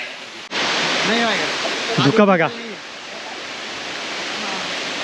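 A steady, rushing roar of falling water from a waterfall near Korigad fort, Lonavala, in monsoon fills the background while a person speaks briefly over it.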